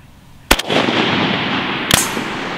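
Two sharp, loud rifle reports from a Century Arms VSKA AK47 fired at steel targets on an outdoor range, about 1.4 seconds apart, each followed by a rolling echo over steady wind noise.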